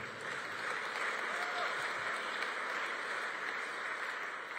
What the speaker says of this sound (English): you can applaud for that too